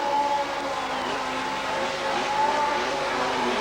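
Drag racing cars at Bug Jam, a modified car against a super street car, roaring under hard acceleration, a loud sustained engine wail with rising pitch and no talk.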